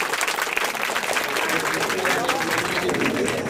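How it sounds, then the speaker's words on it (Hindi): Children clap vigorously at a devotional gathering where they are staging a play, a dense, continuous burst of applause from a crowd that holds steady throughout. "जोरदार ताली बच्चों।"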